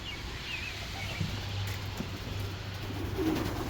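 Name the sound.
racing pigeon cooing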